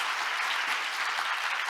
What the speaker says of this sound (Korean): give a big round of applause again.